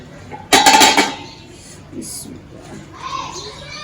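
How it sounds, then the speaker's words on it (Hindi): A spoon clatters and scrapes inside a pot of cooked rice in one brief, close burst of metallic knocks, followed by quieter kitchen sounds while people talk. "गाइस मैंने ना पहले चम्मच चलाया इसके अंदर, तो मुझे कच्चे लग रहे थे"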